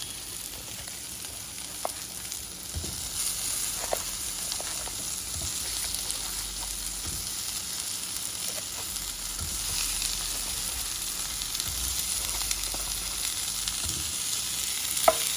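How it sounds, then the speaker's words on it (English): Meatless meatballs fry in a pan with a steady, continuous sizzle, punctuated by a few soft clicks and taps of a utensil, with no talking throughout. "I'm going to add my meatless meatballs to the pan."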